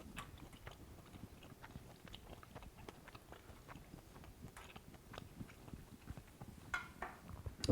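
Someone bites into and chews a fennel-crusted ribeye steak with a crunchy fennel crust, close to the mic but quiet. Soft crunches and moist chewing repeat irregularly throughout, with no talking.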